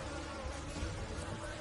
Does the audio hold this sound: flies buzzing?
yes